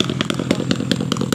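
Motorcycle passing close by on a rural road near goats, a loud rasping engine with rapid rhythmic pulsing, brief and dominant with no talking.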